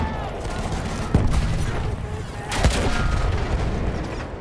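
Tank cannon and gunfire in the World War I shooter Battlefield 1 rumble through a dense battle din, with two sharp blasts standing out over continuous distant firing and a faint voice in the mix.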